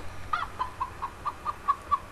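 A Minecraft chicken clucks in a quick series of about eight evenly spaced, clipped calls, close and clear over a quiet background.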